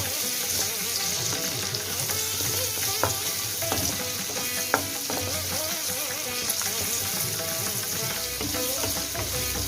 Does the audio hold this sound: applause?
no